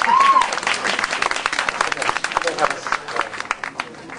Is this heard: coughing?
no